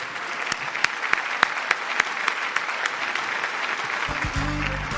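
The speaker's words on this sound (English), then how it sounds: "Let's give him a round of applause." Audience applause at the 2023 GMBA Awards ceremony, a steady wash of many hands clapping with sharp individual claps standing out, sustained for the whole stretch at moderate loudness, with a low hum entering near the end.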